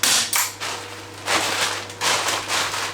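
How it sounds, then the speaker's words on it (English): Hammer blows drive nails into wooden flooring of a Dunster House Dominator garden office, several sharp knocks spaced unevenly over a few seconds, close and fairly loud with a low hum underneath. "Then nail in here, hammer"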